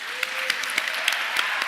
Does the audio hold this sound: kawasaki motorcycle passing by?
no